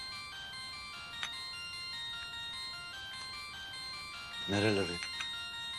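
A mobile phone ringtone plays in a home, a short melodic burst of rising tones that sounds briefly and fairly clearly over a quiet room hum, with a voice speaking before it.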